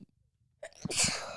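A single sneeze, close and sharp, rising after a brief quiet inhale and trailing off into a breathy hiss.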